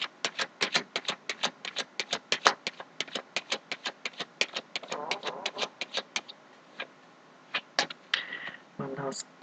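Tarot cards shuffled by hand at close range, a quick run of crisp, evenly spaced taps and flicks, ending in a brief rustle and thump as the deck settles.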